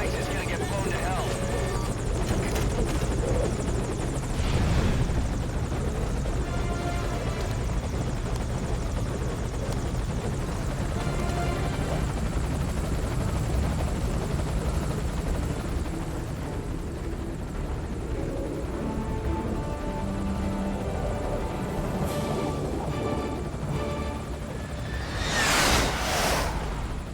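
Helicopter in the video game Metal Gear Solid Ground Zeroes, a steady rotor drone running continuously throughout with a swell of whooshing noise near the end, under spoken dialogue.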